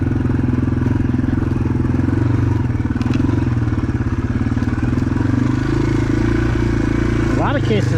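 A Yamaha TW200 motorcycle engine runs with a steady, close, throbbing single-cylinder drone that holds even throughout, with faint clatter on top.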